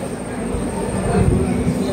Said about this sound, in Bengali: ট্রেন আমাদের ছেড়ে দিল হচ্ছে বহরমপুর কোর্ট স্টেশন